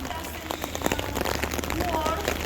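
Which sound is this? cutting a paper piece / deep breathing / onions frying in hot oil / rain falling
rain falling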